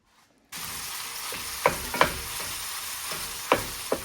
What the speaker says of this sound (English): start browning up your ground beef